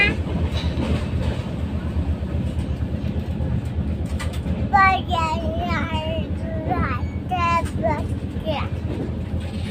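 A train rumbles steadily past with a continuous low roar, while birds chirp and coo intermittently over the noise in the second half.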